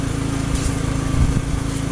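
A Craftsman leaf blower engine runs steadily in light, powdery winter snow, giving a loud, continuous small-engine drone that rises slightly partway through.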